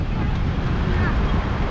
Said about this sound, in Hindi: बहुत तेज़ हवा चल रही है यहाँ पे